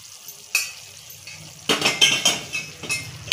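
Syrup is stirred into a mung dal barfi mixture in a pan with the gas off. A spoon scrapes and clinks against the metal in a quick, irregular run of close, sharp knocks, with a single hit early on.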